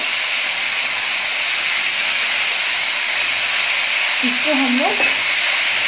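Finely chopped onion and tomato frying in a pan, giving a steady close hiss of sizzling throughout with faint stirring scrapes near the end, while someone speaks briefly over it.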